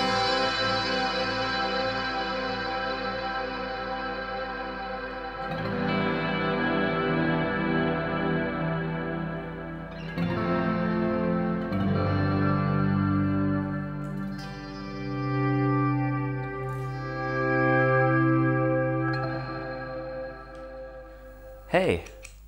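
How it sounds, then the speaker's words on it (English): A sustained synth or instrument tone runs through GFI System Specular Reverb and Clockwork Delay effects pedals, with long shimmering reverb tails and repeating delay echoes that swell and decay over changing notes. "The Clockwork Delay and the Specular Reverb."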